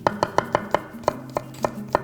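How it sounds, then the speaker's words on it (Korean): A knife chopping garlic on a cutting board for aglio e olio, about ten sharp, evenly spaced knocks over two seconds, close and clear, with no talk. "알리올리오를 드실 때 하는 마늘이기 때문에 너무 얇게 썰지 마세요"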